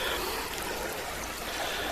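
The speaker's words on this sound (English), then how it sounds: "no more than a little stream, really, at this point." The River Porter, a small, very twisty stream, flows with a steady close-up burble and trickle that holds even throughout, with no voices.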